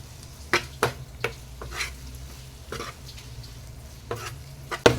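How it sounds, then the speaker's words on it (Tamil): A spoon stirs masala sprinkled with chopped coriander in a pan for a bakery-style sandwich filling, giving sharp scraping clacks at irregular intervals over a soft, low sizzle. "ஸோ ஃபைனலாக கொஞ்சமாக கொத்தமல்லி தூவி அதையும் லேசாக கிளறிடலாங்க."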